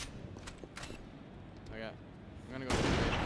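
A sniper rifle in the video game STRIDE fires several sharp, clipped shots, ending in a loud burst near the end, while a commentator talks over the action.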